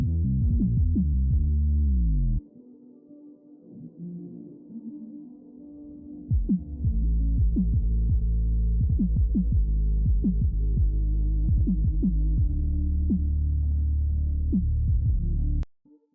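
Low-end bass and kick drum from a game soundtrack track, a heavy sustained bass bed thumping with repeated kicks, dropping to a quieter rumble briefly before the full pulsing low end returns and cuts off at the end.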